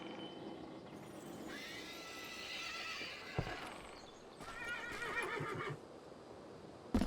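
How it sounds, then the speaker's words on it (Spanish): A horse neighs and whinnies in the Call of Juarez video game, a long clear call with hoof clip-clop, and a second whinny follows after a short thud, alone with no talk. "Ah, qué bonito caballo."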